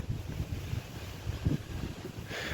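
Strong, cold wind gusting through a forest, heard as a steady low rumble of wind buffeting the microphone, swelling and easing in uneven gusts for a few seconds with no talk.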